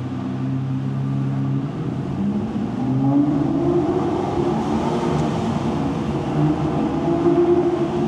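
An Aston Martin V12 Vantage S cruises at about 30 km/h, its V12 engine holding a steady low rumble that swells slightly partway through, continuous and heard from inside the car without talk.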